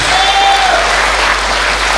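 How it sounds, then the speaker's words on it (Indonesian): A church congregation applauds and cheers in praise, a loud dense wash of clapping filling the room continuously, with a brief whistle-like tone near the start. "Berikan sorak-sorai buat Tuhan"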